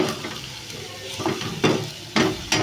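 Spices being stirred and sautéed in a pan for dal khichdi with red chilli powder, a steady soft sizzle broken by a few louder scraping stirs near the end, close and alone.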